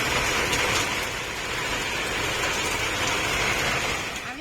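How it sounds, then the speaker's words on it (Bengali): Heavy rain pours down in a loud, unbroken wash of hiss that holds steady for the whole stretch and fades only slightly at the very end, with no voices over it. "আর এত বৃষ্টি হচ্ছে"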